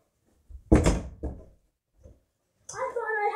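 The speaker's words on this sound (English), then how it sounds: "close the door on my face" A door swings shut with a loud thud, then a short softer knock follows; a quiet bump comes later, and a voice starts up over music right after in a cartoon scene.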